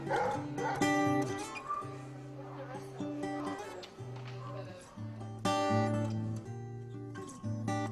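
Rescue dogs bark and yip in repeated bursts over steady background music, with a voice speaking in places.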